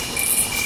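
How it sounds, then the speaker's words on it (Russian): Insects buzzing and chirring in a forest setting, a steady high continuous drone with a sustained whine throughout, close and fairly loud with no talking. "Слушайте бурное общение птиц, жужжащих жуков."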